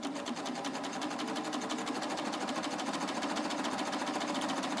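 A Baby Lock serger stitches fabric for quilt-as-you-go work, its rapid, even mechanical chatter running continuously up close and unaccompanied by talking.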